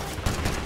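Gunfire in Totally Accurate Battle Simulator, a couple of short punchy shots at moderate loudness within a brief burst, with no talking over it.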